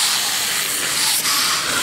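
Water sprays onto an air conditioner coil in a loud, constant hiss that runs unbroken for a couple of seconds, close to the listener.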